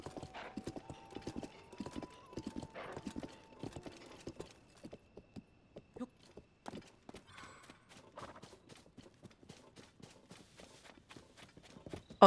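Horse hooves clip-clop in a steady walking rhythm in the video game The Legend of Zelda: Tears of the Kingdom, close and distinct, with faint game tones early on and no talking.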